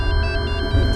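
A phone ringtone rings loud and close, a steady electronic melody with pulsing tones lasting about a second, with no voices over it.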